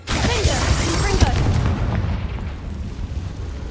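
A Confringo explosive spell blast in the game Hogwarts Legacy, a loud booming burst at the start that rumbles and fades over a few seconds, with a voice faintly underneath.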